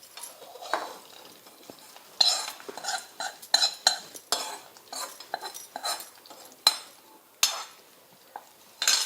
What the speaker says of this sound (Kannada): ಇದೆಲ್ಲ ಚಲೋ ಹೊತ್ತಿಗೆ ಮಿಕ್ಸ್ ಮಾಡ್ಕೋತೀನಿ ರೀ